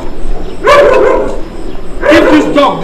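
A dog barks twice in a Nigerian Nollywood comedy film, two loud, close bursts of barking and yelping about a second and a half apart, over a steady background hum.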